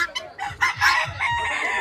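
Fancy Silkie and Polish cap chickens clucking close by, a quick run of short, loud, rhythmic clucks and squawks with no talk.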